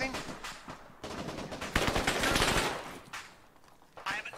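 Bursts of automatic gunfire crackle through a combined-arms operation in Able Archer III, loud rapid volleys rising and falling over a few seconds, with players talking in between.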